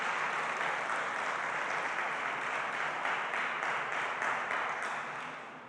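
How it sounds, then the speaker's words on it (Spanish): A church congregation applauds the fathers with steady, dense clapping that fills the room at a moderate distance and fades slightly at the end, with no voices. "Den un aplauso a los papás."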